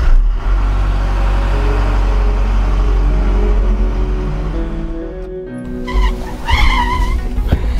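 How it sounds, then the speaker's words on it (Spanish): A car brakes hard, its engine rumbling loudly before a drawn-out skid and squeal of tires, followed by a sharp stop and a few higher squeaking screeches near the end. "Es esa frenada de carro"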